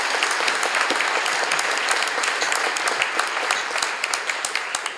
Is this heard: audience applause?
yes